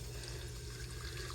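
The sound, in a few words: water pouring into mason jar hydroponic setup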